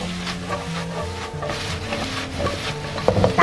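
Tomato, egg and eggplant stir-fried in a pan, with scraping spatula strokes over a soft sizzle, close and fairly loud, a clatter of cookware near the end.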